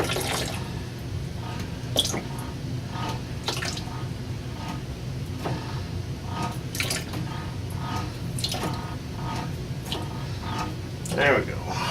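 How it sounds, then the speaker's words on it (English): Water draining out of a toilet tank during a valve replacement, a steady splashing trickle with scattered drips and knocks, close by and continuous throughout. "Let's drain a little bit of that water out."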